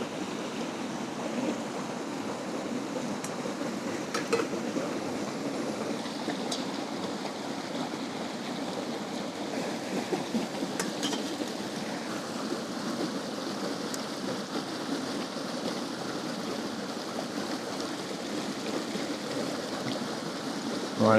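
Shallow river water trickling and dribbling over rocks at a campsite, a steady, soft, continuous wash with no break and no talk.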